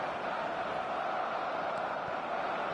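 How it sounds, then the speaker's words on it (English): A stadium crowd in a football video game makes a steady, even roar of massed voices, a constant wash of cheering noise at moderate loudness with no distinct peaks. "the crowd have tried to spark some excitement, but to no avail"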